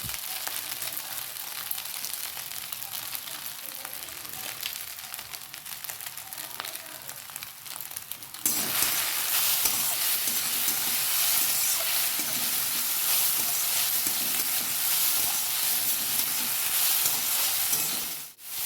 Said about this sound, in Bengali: মশলাটা দেওয়ার পরে দেখো খুব ভালো করে ভেজে নিচ্ছি